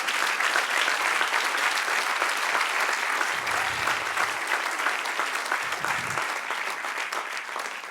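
A church congregation applauds steadily for several seconds, a close, even wash of clapping that slowly tapers slightly toward the end.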